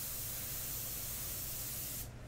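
An airbrush sprays paint onto a portrait in a continuous soft, steady hiss, close and even throughout before cutting off near the end.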